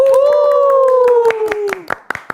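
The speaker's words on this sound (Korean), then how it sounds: "박수 쳐야 돼요" Handclapping during a K-pop band's comeback live broadcast: about a dozen sharp, distinct claps that quicken and grow crisper while a sustained, falling vocal tone carries underneath.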